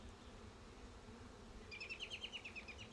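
A low, steady hum of honey bees buzzing around a hive, joined halfway through by a quick series of faint, high chirps.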